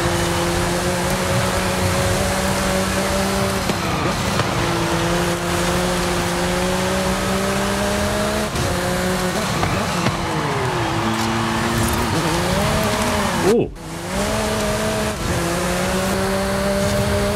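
McLaren Artura racing in Forza Horizon 5, a steady loud engine drone holding pitch with shifts and revs rising and falling, and a brief dip near the end.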